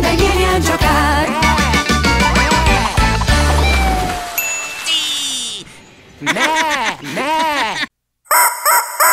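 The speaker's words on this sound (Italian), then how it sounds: "Bartolito era un gallo che veniva da Madrid. Con il sole in fattoria si metteva a cantar così." A cartoon rooster from a children's farm song crows in a few loud, arching calls right after a bouncy musical passage, near and clear, with brief pauses between the cries.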